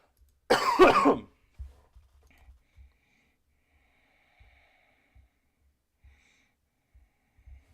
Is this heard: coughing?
yes